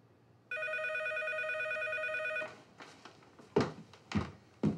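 Telephone ringing with a steady electronic trill for about two seconds, followed by several dull thunks and handling knocks as the receiver is picked up, close and fairly clear.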